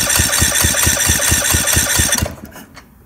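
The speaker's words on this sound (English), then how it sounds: "As soon as it has compression, it has a hard time cranking over." A Kohler 18 hp Courage small engine with a valve problem labours on the starter, a fast, heavy, rhythmic cranking chug that runs steadily, then stops abruptly and leaves near silence.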